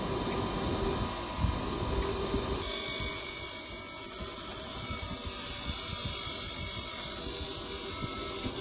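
Deburring tool spinning around the inside of a turbo pipe for a Lancia Prisma HF integrale build: a steady, loud, high whirring whine that holds continuously and without talk.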